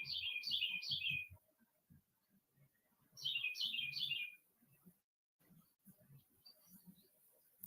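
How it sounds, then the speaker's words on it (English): Two quick bursts of bright, repeated bird chirps, three notes each, over quiet low background noises and faint muffled sounds. "Y'all hear the birds?"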